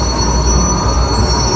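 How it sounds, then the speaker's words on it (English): Loud, steady rumble of a steam train with high metallic squealing and hissing, a heavy engine grinding along as it slows to a stop. "Sound of a steam train stopping"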